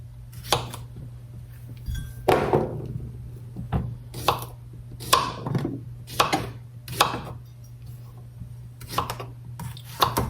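A knife chops zucchini and squash on a cutting board in irregular sharp strikes, some in quick pairs, close and clear with faint clinks between.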